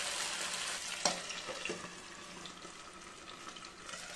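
Marinated fish frying in a pan for a Kerala-style banana leaf fish fry: a soft, steady hiss of oil with one sharp tap near the start and a few faint crackles, fairly quiet and continuous.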